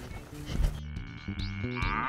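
Dairy cattle on a farm low repeatedly, a couple of deep, drawn-out moos at moderate distance over faint outdoor background noise.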